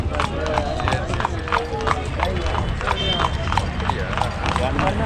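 Steady clip-clop of a carriage horse's hooves on pavement in Luxor, Egypt, a brisk regular rhythm, amid busy street noise and background voices.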